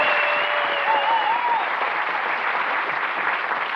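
Sustained studio audience applause on the Blankety Blank game show, a dense, even wash of clapping that holds steady at full strength for several seconds, with a faint higher tone running underneath early on.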